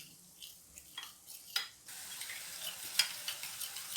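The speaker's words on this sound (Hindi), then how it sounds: "इसे अच्छी तरह मिक्स करना है।" Mayonnaise and red chilli sauce being stirred together for shawarma sauce, a soft wet scraping and clinking of a spoon against the bowl, near and fairly quiet, with a few sharper taps.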